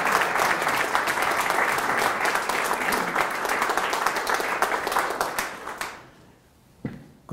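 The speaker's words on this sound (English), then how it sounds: "let's give him a big round of applause and welcome to the meeting" Sustained audience applause fills a meeting hall at the North Pacific Union after a guest speaker is welcomed, steady and dense for about six seconds before tapering off into a few scattered claps.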